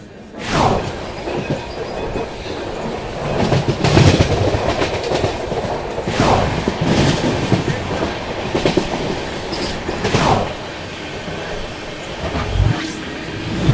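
The Secunderabad-Guntur Intercity superfast train rolls along with rhythmic clickety-clack of wheels over rail joints, periodic heavy thumps and high wheel squeal, loud and close from onboard.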